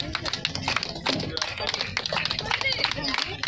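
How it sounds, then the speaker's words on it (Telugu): Dense, rapid clapping from a crowd at a forest-conservation festival rally in Vemagiri village, sharp and continuous, with a voice calling out over it. "క్లాప్స్ కొట్టండి అందరూ గట్టిగా."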